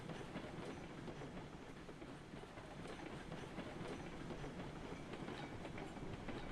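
Coal-powered steam locomotive running fast along track in the Railroads Online game, a dense continuous rush of rolling noise and rhythmic clatter at steady loudness, no talking.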